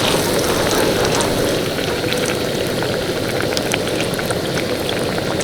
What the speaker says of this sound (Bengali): আজকে আমি মালপোয়া ভাজতে বসেছি